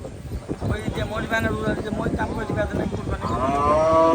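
A cow at an open-air cattle market lets out a long, loud moo that builds toward the end, with people talking and wind noise around it.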